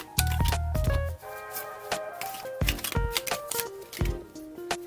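An Animal Spirits tarot deck is shuffled close by, with rapid riffling flutters and crisp card snaps in bursts, and soft tonal chimes ring faintly underneath.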